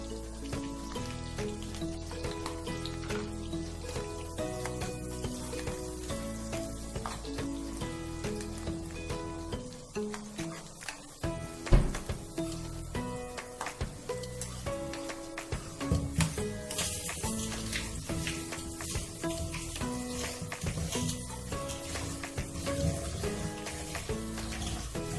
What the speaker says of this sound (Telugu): లైట్గా ఫ్రై చేసేసి